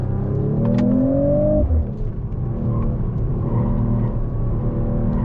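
A 2025 Mercedes-AMG CLE 53 Coupe accelerates hard into a corner, its engine note climbing steadily before a sudden drop in pitch as power cuts, then settling into a lower steady rumble heard from inside the cabin.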